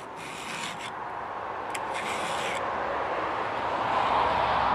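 Hand file rasping along the edge of a chainsaw chain during sharpening, a continuous gritty scraping that repeats in short strokes up close, steady and fairly loud throughout.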